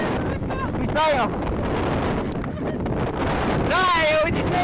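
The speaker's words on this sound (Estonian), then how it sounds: "Rae jõudis meieni! Väga hull! Vihm ka!" Hail and rain hammer down hard during a summer hike on a flooded trail, making a dense, steady roar of impacts and wind buffeting. Excited voices shout and talk over the downpour.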